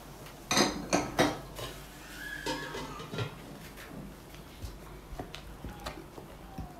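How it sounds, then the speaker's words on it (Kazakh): Cake batter with raisins is mixed in a bowl, giving a few sharp clinks and scrapes of a utensil against the dish early on, then softer, scattered taps fading toward the end. "Қамырмен жақсылап араластыру керек."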